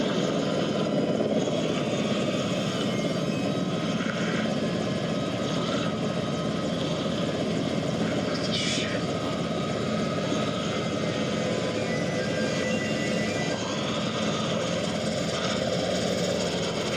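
A helicopter in a Walking Dead episode drones steadily and loudly throughout, its rotor and engine noise a constant near wash with no break.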